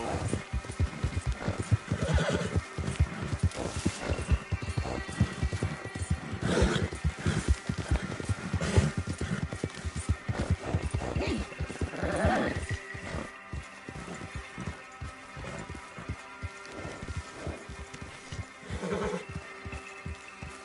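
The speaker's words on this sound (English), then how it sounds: "No horses in camp, Arthur." Horse neighs and whinnies repeatedly in a Red Dead Redemption 2 camp, with steady hooves clip-clopping throughout; loud and close, with the whinnies rising in several bursts.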